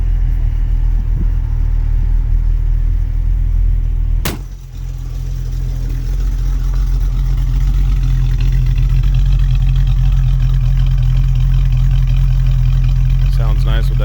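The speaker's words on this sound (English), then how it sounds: "Sounds nice with that MagnaFlow exhaust, catalytic converters, and our X-pipe." A 1955 Chevy hardtop's small block V8 on Holley Sniper EFI rumbles through a MagnaFlow exhaust with catalytic converters and an X-pipe. A deep, steady low drone with slight revving runs throughout, dipping briefly, while people talk over it.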